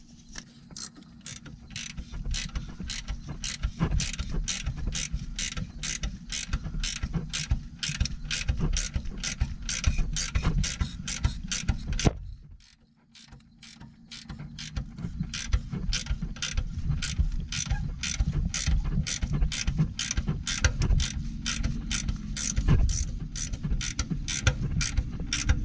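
A ratchet fitted with a 10 mm socket turns a fastener while lowering a Corvette's suspension, giving a close, steady run of rapid clicks that breaks off briefly near the middle, then resumes with no talking.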